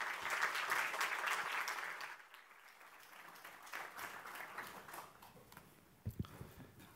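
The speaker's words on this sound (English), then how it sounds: "Please welcome with applause." Audience applause welcoming a minister at the opening of a business innovation forum in Latvia, clapping loudest at first, then thinning into scattered claps and room murmur, fairly distant.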